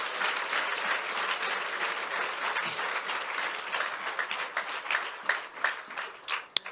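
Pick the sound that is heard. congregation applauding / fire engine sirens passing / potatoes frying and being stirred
congregation applauding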